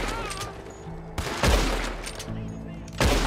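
A few sharp, booming carbine repeater rifle shots during a shootout with lawmen in Saint Denis in Red Dead Redemption 2, each crack followed by a lingering echo, spaced about a second or more apart.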